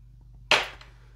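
A single sharp clack as a paintbrush is set down on a glass palette, a brief close tap with a quick fading ring in a quiet room.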